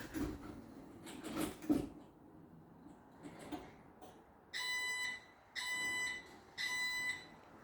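A garage door opener gives three loud electronic beeps in a steady rhythm, signalling blocked sensors, after some faint clunks and rustling, each tone held for about a second.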